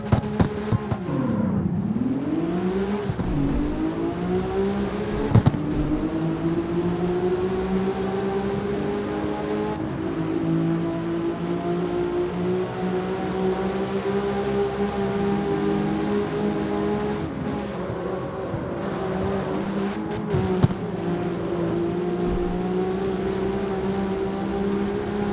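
Porsche engine in the CarX Street racing game, a sustained droning engine note that dips briefly early on, then climbs and holds a steady high whine with small shifts in pitch, heard alone at moderate level.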